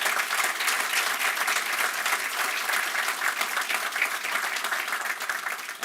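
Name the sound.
audience applause for the panel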